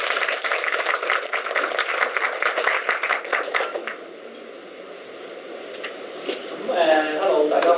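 An audience at a Hong Kong medical talk on inflammatory bowel disease applauds a speaker's welcome with a few seconds of brisk clapping that fades away, followed by a short pause and then someone beginning to speak.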